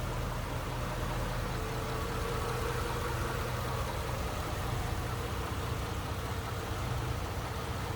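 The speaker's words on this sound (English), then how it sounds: "Here it is, 239 flathead, V8" A 1951 Ford Custom's 239 flathead V8 with single carb idles smoothly and steadily, a constant low mechanical hum with no talk over it.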